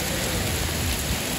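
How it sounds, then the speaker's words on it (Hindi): Heavy rain pours down steadily on a roadside in a wet downpour, a dense, even hiss that fills the whole short stretch with no voices over it. "बारिश काफ़ी ज़्यादा तेज़ है"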